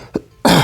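A short cough from a person with a sore throat, preceded by a faint throat sound, close and loud.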